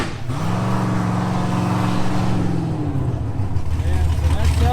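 A 6th gen COPO Camaro engine holds a loud, steady rumbling rev on the two-step, droning close by and then dropping away, with a voice talking over it.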